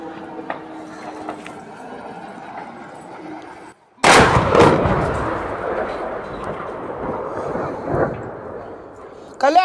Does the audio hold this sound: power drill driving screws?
no